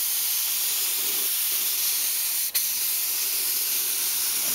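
A spray gun applying two-stage acrylic enamel paint to a 1987 Yamaha VMAX hisses steadily and evenly throughout, a continuous moderate airy spray with one brief dip partway through.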